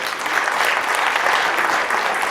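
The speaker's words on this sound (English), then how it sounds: "Ladies and gentlemen, let's give these folks a round of applause." Loud, continuous applause fills the room at a community awards ceremony honoring a group of recipients, with no voices heard over it.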